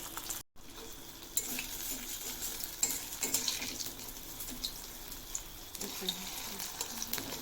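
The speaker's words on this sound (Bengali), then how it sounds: "তো বন্ধুরা দেখতেই পাচ্ছ একটা একটা করে পাল্টে নিচ্ছি এগুলোকে ভালো করে ফ্রাই করে নিতে হবে" Water lily flower fritters fry in oil in a pan, a soft sizzle broken by crackles and occasional louder pops as pieces are turned, with one short break early on.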